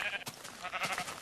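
Sheep bleating in Minecraft, a few short, nasal bleats repeating close by over about a second with no talking.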